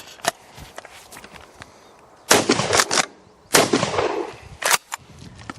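Three sharp, loud shotgun blasts of 3-inch steel shot magnum cartridges fired outdoors, each a sudden crack with a decaying tail, spaced about a second apart, with faint earlier pops and footstep-like shuffles before them.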